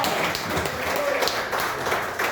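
A church congregation at an evening Presbyterian service in Sol Nascente, Ceilândia, claps for the visiting preacher: a dense, steady patter of many hands filling the room at moderate level throughout.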